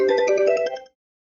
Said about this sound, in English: if I call this phone now, we'll now hear our Sony Ericsson theme